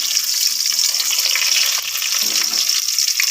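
Whole spices such as clove and curry leaves frying in oil for a spicy chicken curry, a loud, continuous close-up sizzle and crackle with no talking.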